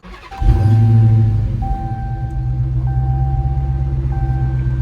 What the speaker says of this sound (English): So we're about to start it up.